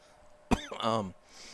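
A single close, sharp cough after inhaling cigar smoke, followed by a short raspy throaty rasp, in a quiet room.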